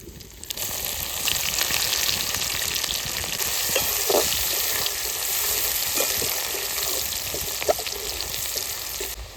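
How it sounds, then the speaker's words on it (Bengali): Bay leaf, cinnamon, cardamom, cloves and sliced onion hit hot oil and fry with a loud, continuous crackling sizzle that starts abruptly and runs on, with occasional sharper pops and light stirring. "তেলের উপর দিয়ে দিচ্ছি তেজপাতা দারচিনি এলাচ লবঙ্গ কোচানো পেঁয়াজ"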